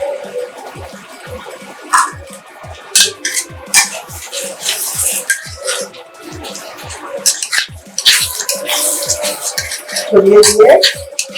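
Doi begun, yogurt eggplant finished with mustard oil and coriander leaves, stirred in a pan with a steady run of soft utensil scrapes and light clinks against the metal, close by and fairly busy.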